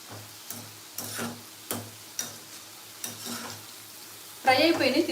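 Okra (bhindi) stir-frying in a pan, with soft sizzling and a run of regular spatula scrapes and taps, ending in a louder burst of frying.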